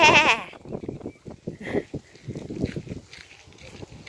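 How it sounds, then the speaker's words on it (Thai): Goats grazing in a field abroad, with a loud near bleat at the start followed by softer scattered bleats and rustling footsteps in the grass, while a person talks over them. "มาดูแพะกินหญ้า"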